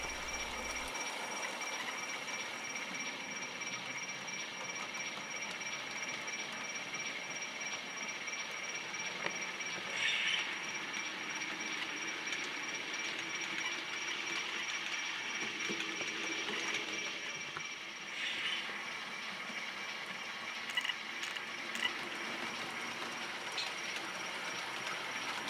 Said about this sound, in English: I finally managed to get the locomotive out of my yard